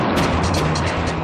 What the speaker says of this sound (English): the brand new Bushmaster II Mark 46 chain gun